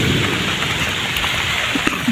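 Rain falls steadily outdoors in a constant hiss of drops on surfaces, with a few louder close splats near the end; no voices.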